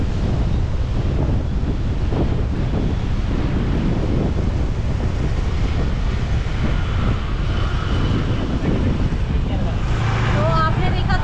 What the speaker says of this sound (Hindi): बहुत ही प्यारी सी यहाँ पर हवा चल रही है